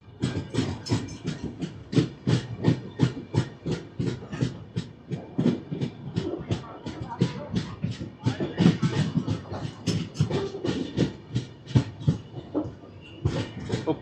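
An Intercity Express passenger train from Secunderabad to Sirpur Kaghaznagar runs near Uppal, wheels striking rail joints in a fast, steady clickety-clack rhythm that stays loud and close throughout, with faint voices underneath.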